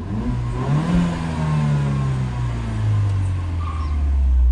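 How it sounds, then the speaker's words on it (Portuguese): A Peugeot 208 GT engine hums steadily nearby, its pitch gently rising and falling as it idles and revs slightly. "não sei se dá para vocês ouvirem o barulho do motor."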